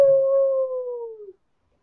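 A single long howl imitating a werewolf in a fantasy tabletop role-playing game, steady and loud before sliding slightly downward and cutting off after about a second and a half, heard alone with no talk.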